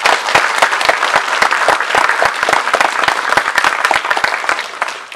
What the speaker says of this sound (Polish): Także ogromne brawa dla pana Ryszarda